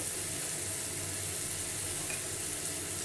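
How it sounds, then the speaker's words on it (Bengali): Fried potatoes sizzling as they are sautéed with mutton curry in a pan, a steady, moderately quiet hiss of frying oil that continues evenly without pause. "আমি এবার তুলে মাংসতে দিয়ে দিচ্ছি। মাংসের সঙ্গে একটু কষিয়ে নেব।"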